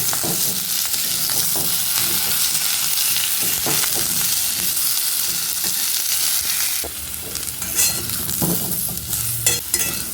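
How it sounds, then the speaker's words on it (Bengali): Potato pieces and boiled young jackfruit frying in hot oil in a pan, a steady, close, loud sizzle throughout with occasional stirring scrapes and clinks. "এবার এঁচড়টাকে দিয়েও ফ্রাই করে নেব।"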